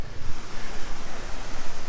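Kurudere waterfall in Sakarya pours heavily, a dense, loud, continuous broadband roar of rushing water with gusty surges throughout, close by and with no voices.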